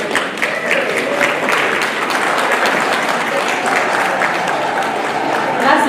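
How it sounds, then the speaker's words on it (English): Audience cheering and applauding at a university ceremony in Mtito Andei, dense, loud sustained clapping from a large crowd lasting the whole stretch, with voices mixed into the ovation. "That's the part where you cheer."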